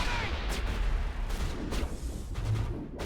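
A grenade blast in the video game Mass Effect, a loud, sustained rumbling explosion with continuous dense noise and several bursts, close and filling the whole clip.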